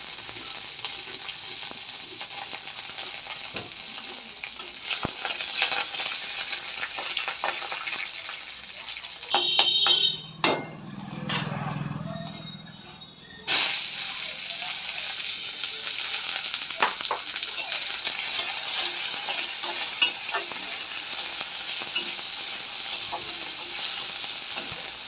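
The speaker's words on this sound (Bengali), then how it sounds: "ভাজা হয়ে গেলে এর মধ্যে দিয়ে দেবো 2টো পেঁয়াজ কুচানো" Chopped onions and curry leaves fry in hot oil with a steady, loud sizzle, broken midway by a few clinks, scrapes and a brief stir before the hiss resumes.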